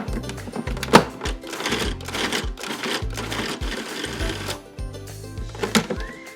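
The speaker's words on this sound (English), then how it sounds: "I'm just taking this fresh bread and I'm just gonna crumble it straight in here and let the food processor do the work" Fresh sourdough bread broken into a food processor and pulsed into breadcrumbs: short bursts of low motor whir with blade chatter and rattling, stopping and restarting several times, close by, no speech.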